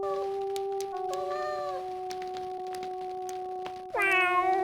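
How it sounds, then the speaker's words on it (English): A cartoonish cat in a Star Trek video game meows in clear, tonal calls: a soft mew near the start, another mid-clip, and a louder drawn-out meow at the end, heard over a steady electronic hum of game ambience. "Terran cat, feeling very self-satisfied."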